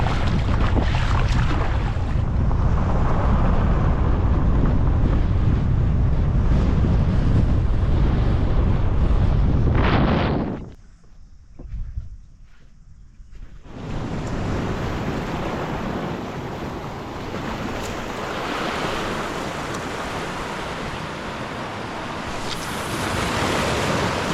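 Strong wind buffets the microphone over choppy water and surf while kayaking at Spirits Bay, a loud continuous roar that drops away briefly partway through before the gusts and wave wash return.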